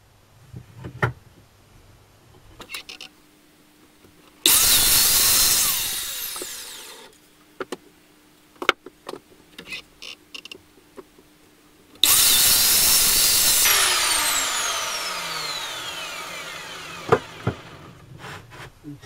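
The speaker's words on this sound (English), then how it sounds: "these two I'll actually cut on the chop saw rather than cutting by" A chop saw cuts wooden pieces for a pom pom blanket loom. Two long, loud, close cuts each whine through the wood and spin down, with quiet knocks and handling between them.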